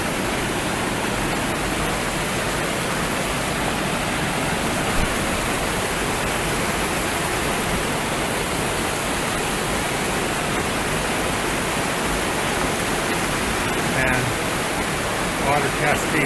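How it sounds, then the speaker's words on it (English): A hidden waterfall on a steep mountain spilling clear water, a loud, steady broadband roar of cascading water filling the whole scene without pause, close by and unchanging throughout. "Water cascades out of there."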